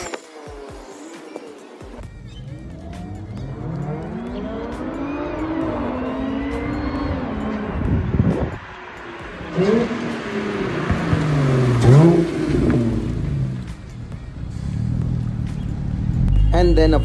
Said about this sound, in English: The exhaust note while the car taking off was a real pleasure, but what was more fascinating was the supercharger whine that sounded like a jet taking off